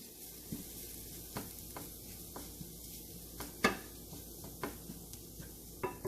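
A spatula stirs garam masala and amchur powder in a frying pan, with soft sizzling throughout and sharp metallic scrapes and taps at irregular intervals, close up and without talk.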